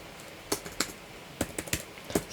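Several separate keystrokes on a computer keyboard, entered while launching a Metasploit multi-handler session to exploit an SMB service on Windows. They are close and crisp, come in uneven bursts, and sound alone with no talk.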